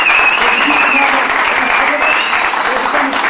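Applause for a championship-winning team bringing the cup home to Nea Mesimvria, loud and dense clapping from a crowd throughout, close and continuous, with voices mixed in.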